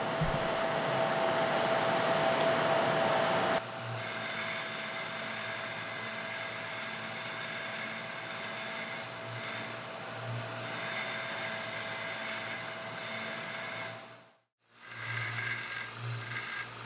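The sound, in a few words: bench grinder running in a workshop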